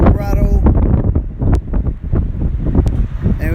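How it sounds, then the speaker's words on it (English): Strong gusty wind roars and buffets the microphone at a roadside pit stop on a drive to Dallas, loud and continuous, while people talk underneath. "It's a little windy out here"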